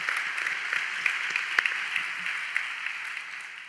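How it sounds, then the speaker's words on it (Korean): A church congregation claps for the worship MCs, a fairly soft, even patter of applause with a few sharper individual claps standing out, heard from some distance and fading slightly toward the end. "격려와 사랑의 박수를 한 번 더 보내도록 하겠습니다"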